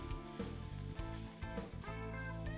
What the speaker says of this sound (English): Add crushed ginger and garlic and saute until fragrant